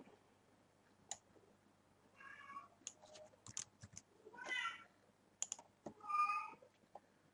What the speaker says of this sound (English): my cat's not too happy with this crap either